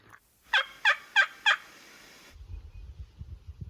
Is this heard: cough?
no